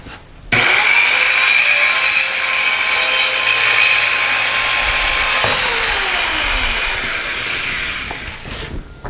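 Tacklife mini circular saw cutting a small section, starting abruptly into a loud, steady high whine that holds for several seconds, shifts pitch midway, then winds down and stops.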